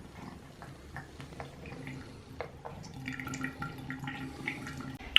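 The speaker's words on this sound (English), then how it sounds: "She licks the bottom of the sink and then gets water all over her head." A dog licks the bottom of a sink and drinks, with soft wet lapping, drips and light splashes of water, close and quiet, with no talk.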